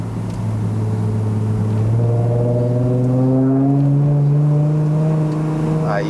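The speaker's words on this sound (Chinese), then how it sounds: "哇靠，整个 V6 的声音出来。" A remapped Lexus IS250 V6 exhaust drones loudly and steadily as the car accelerates, its pitch climbing smoothly through a long pull, heard close up from inside the car on a mountain run in Malaysia.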